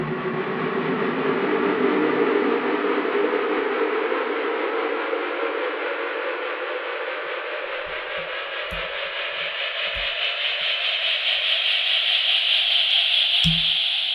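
A noisy, filtered sound sweeps steadily upward in pitch over several seconds, building tension, with a few faint thumps near the end.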